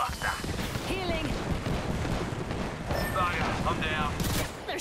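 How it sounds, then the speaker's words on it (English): Gunfire in the Apex Legends video game, a dense continuous barrage of rapid shots and impacts running the whole time, mixed with game effects and a voice talking over it. "They're shooting at me."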